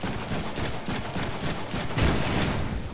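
Rapid gunfire in the Deadpool video game, a dense continuous burst of shots that stays loud and close for the whole stretch with no pauses.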